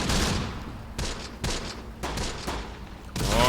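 An anti-tank gun fires on a tank in the WW2 strategy game Close Combat, set in the North African desert: a rapid string of loud, heavy blasts, roughly two per second, each ringing into the next, with no talk.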